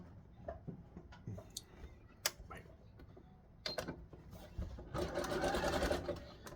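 A domestic sewing machine stitches a small box of fine, dense zigzag onto elastic for wrestling tights, with scattered clicks and handling noises first, then a steady close whirring burst near the end.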